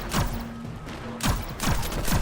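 Explosions and bursts of gunfire in the Destiny 2 shooter game, several heavy booming blasts in quick succession with rapid shots between them, loud and close.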